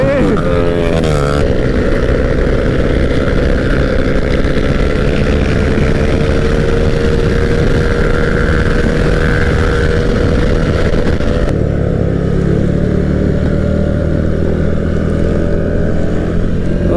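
A group of motorcycles speed along at night in a steady, loud roar of engines close by, with rising and falling revs as they ride together.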